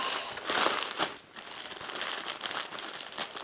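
Tissue paper wrapping on a purchase crinkles and rustles up close in irregular bursts as it is pulled open, with a brief pause midway.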